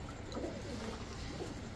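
Pigeons at a Bengali pigeon market, including brown-necked hens, cooing in soft rolling low murmurs that overlap continuously over a steady background din, with no voices heard.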